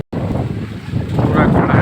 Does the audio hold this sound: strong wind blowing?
yes